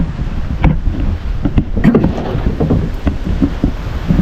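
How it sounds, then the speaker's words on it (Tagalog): Loud, blustery wind from a worsening rainstorm buffets the microphone with a constant low roar and gusty thumps, water and boat noise mixed in, close and harsh. "grabe hangin"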